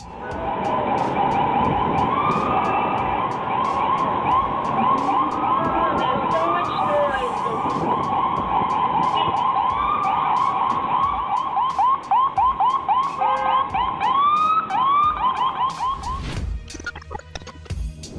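An ambulance siren wails through traffic, loud and near, its rising and falling tone repeating steadily before cutting off abruptly near the end, with street noise underneath.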